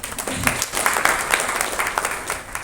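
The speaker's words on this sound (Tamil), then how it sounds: "ஒரு கைத்தட்டல்." An audience at a product launch event claps in scattered, uneven bursts, a moderate round of applause heard from within the room.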